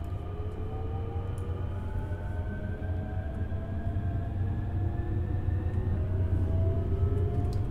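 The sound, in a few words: SNG Sprinter train running in Train Simulator video game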